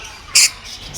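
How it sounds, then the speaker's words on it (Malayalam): A single short, sharp squawk from a bird in a bird park full of many colourful, free-roaming varieties, close by and loud against quiet background hiss. "പല കളറിൽ പല വെറൈറ്റിയിലുള്ള ഒരുപാട് കിളികളുണ്ട് കേട്ടോ"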